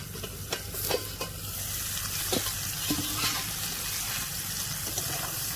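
Cauliflower and potato pieces fry in a pan for a Bengali rui fish curry. A steady, close sizzle runs throughout while a utensil stirs them, with scraping and clacking strokes scattered across the clip and no talk.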